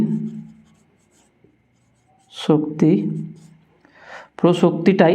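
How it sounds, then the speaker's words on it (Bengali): Pen or chalk scratches on a board during a Class 12 physics lesson on X-ray spectra: a low hum fades into quiet, then brief scratchy strokes come between bursts of a teacher's speech. "আমি লিখি"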